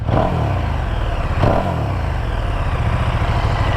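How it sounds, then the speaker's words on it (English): A KTM SuperDuke 1290 GT motorcycle engine with factory exhaust runs loud and close, its exhaust rumbling steadily with a brief rev partway through. "not a bad sounding bike. with the factory exhaust."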